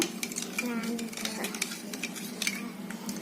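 Raw nendran banana slices being mixed in a bowl with water, turmeric and salt, giving a steady run of soft wet stirring with light clinks of a utensil against the dish, close and continuous, with no talk.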